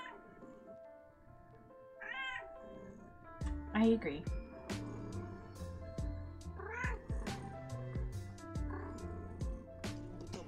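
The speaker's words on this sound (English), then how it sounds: "This is my cat." A pet cat meows several times, short high cries standing out over background music while a person speaks briefly.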